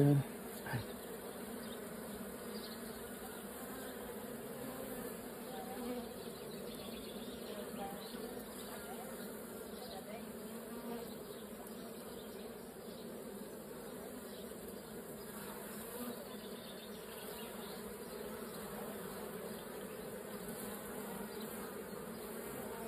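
Honeybees buzz steadily around beehives at an outdoor apiary, a dense, continuous drone that holds at an even level throughout, with faint voices in the background.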